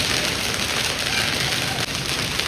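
Large hailstones and heavy rain pour down during a violent storm, a dense, steady roar of pattering impacts with no voices.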